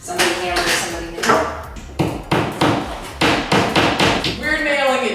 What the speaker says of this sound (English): We're nailing it directly into my wall.